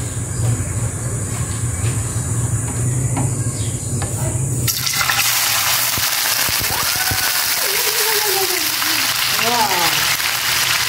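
Tofu frying in hot oil, added to a pan while cooking tilapia, gives a steady loud sizzle and crackle that jumps up partway through, with people talking over it.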